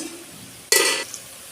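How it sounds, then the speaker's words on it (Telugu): Quiet kitchen sounds, then a sudden loud hiss and splash as water is poured into a hot pot of fish curry, lasting about a third of a second before fading. "వాటర్ వేస్తున్నాను ఇప్పుడు"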